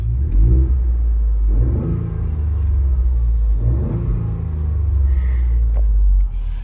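A 2021 Ford Bronco with a Roush aftermarket exhaust and intake revs three times in deep, throaty bursts over a continuous low rumble, heard from inside the vehicle.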